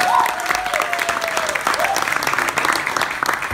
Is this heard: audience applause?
yes